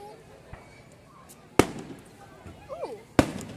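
Carnival fireworks bursting outdoors, two sharp loud bangs spaced about a second and a half apart with a fainter pop before, crackle trailing off, and voices chatting in between.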